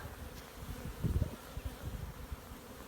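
Honeybees buzzing around beehives outdoors, a steady low drone with a few louder swells as individual bees pass close by; no talking.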